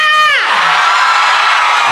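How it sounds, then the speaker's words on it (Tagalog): Loud crowd cheering and shouting with whoops, a dense continuous roar of many voices after a brief tonal swoop at the start, with applause mixed into the din. "Magpalakpakan na may kasamang sigawan!"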